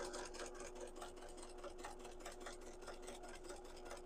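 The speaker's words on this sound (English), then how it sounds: "This is where a walking foot would come in handy on a regular domestic machine. That way your layers aren't shifting as you're sewing." A domestic sewing machine runs steadily as it stitches through the quilted layers of a tote bag with flex foam. Its fast, even needle rhythm whirs on continuously at a quiet level, with no talking.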